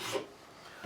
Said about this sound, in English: clean the file, just a little scoot across.